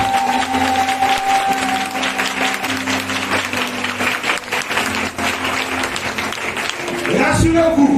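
A church congregation applauding and acclaiming in a continuous roar of clapping, with a voice and sustained tones running underneath, loud and steady throughout.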